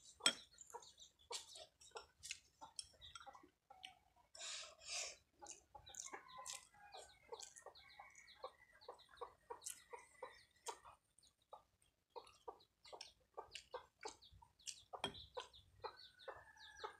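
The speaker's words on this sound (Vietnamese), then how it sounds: "Gà của mình dắt một đàn con đi chơi." A hen leads her brood of chicks around a rural yard in the Vietnamese countryside, giving soft, repeated clucks mixed with tiny high peeps, close but quiet, with no talking.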